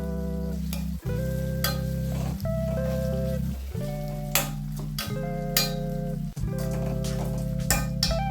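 Half a small tomato sautéing in a pan for a stew: continuous sizzling with occasional stirring scrapes, set against a droning tonal background.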